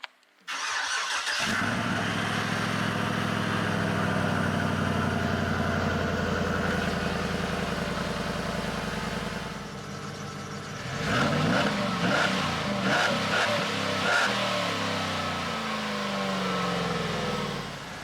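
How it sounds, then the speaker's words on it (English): A large V8 van engine cold-starts, settling into a loud steady idle with a deep throaty exhaust, then a few blips of revving. "we're going to go ahead and do a cold start"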